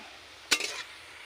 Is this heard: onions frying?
yes